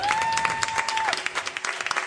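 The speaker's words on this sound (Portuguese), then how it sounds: "Un aplauso a nuestro Padre" A congregation at a worship service claps steadily, with a sustained musical tone sounding over the first half before fading out.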